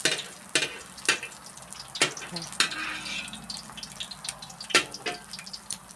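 Eggs frying in a pan for a Thai holy basil pork belly meal, a steady soft sizzle broken by sharp scraping clicks of a spatula against the pan, close and without talk.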